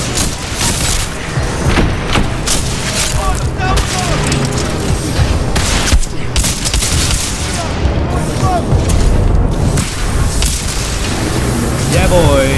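Rapid gunfire and booming explosions from the video game Titanfall 2, dense repeated shots and blasts filling the whole stretch with a voice talking over the action at times.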